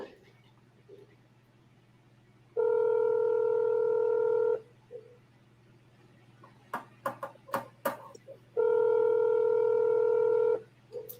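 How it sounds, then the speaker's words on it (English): Touch-tone dialing while calling a sales lead: two long steady tones bracket a quick burst of short keypad beeps, all fairly close and clear over a low background hum, with no talking. "Oh, yeah, triple dial that thing."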